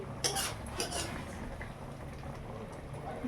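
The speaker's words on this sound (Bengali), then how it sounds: "এই যে আমি আস্তে আস্তে চাটনিটা বাটিতে নামিয়ে নিচ্ছি।" Star fruit chutney is spooned from a pan into a bowl, with clinks and scrapes of a spoon against metal and crockery over a soft background hiss, with no talking.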